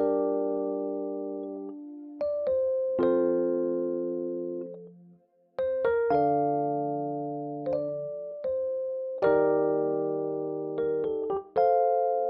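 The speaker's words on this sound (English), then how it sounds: "Then I found this electric piano from concert." An electric piano from a sample library plays a clean trap melody of sustained chords, each struck cleanly then slowly decaying, with short higher notes in between, alone and with no voices.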